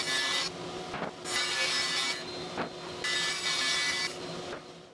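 A saw rips a wood strip just over 11 inches wide for a lift-top workbench, heard as rough grinding bursts separated by short quieter pauses, fairly soft overall.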